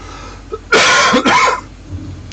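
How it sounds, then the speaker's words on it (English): A short, raspy double cough close to the microphone, sounding rough and throaty, then quiet. "still have this just lingering, stupid lingering cough"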